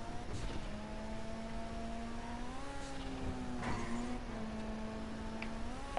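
Engine of a Karuma armored car in the GTA 5 video game, a steady mid-pitched drone with rising and falling rev tones running continuously and fairly loud, with a few brief ticks on top.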